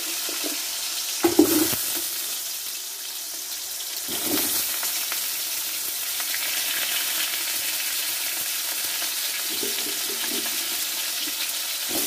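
Potato pieces fry in oil with a nigella seed tempering, making a continuous close sizzle, with a few dull knocks and stirring bumps.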